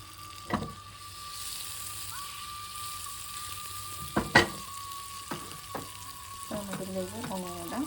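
Garlic and onion sizzle in butter in a hot pan, a steady fry with spoon stirs and scrapes clacking against the pan at intervals, close and moderately loud, no voices.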